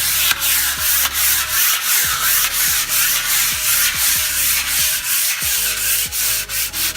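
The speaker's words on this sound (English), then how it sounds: "you just use a fine grit sandpaper for the areas that don't really get wet and go over the whole thing" Butcher block wooden countertop being hand sanded with fine grit sandpaper, steady rhythmic back-and-forth rubbing strokes, close and loud, with no talking.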